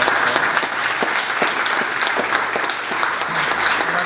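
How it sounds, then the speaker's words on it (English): Applause from the audience at a Lean Startup Circle meetup in San Francisco, steady, full clapping from a crowd filling the whole stretch without a break. "So let's give a big round of applause."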